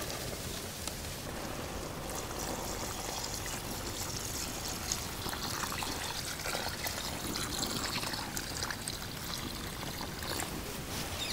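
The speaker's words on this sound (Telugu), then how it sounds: "ఇదంతా ఒక్కసారి ఇలా కలుపుకొని 2 లీటర్లు నీళ్లు పోసుకోవాలన్నమాట" Two litres of water pour into a pot of country chicken rasam on low flame, a steady rushing splash and trickle that runs continuously at moderate, close volume with no talking.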